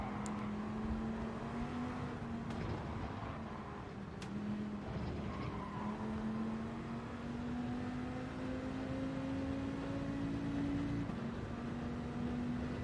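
A race car engine in Gran Turismo 7 holds a steady, droning tone that rises slowly in pitch over a long stretch, with some tire noise underneath, fairly faint and continuous with no talk.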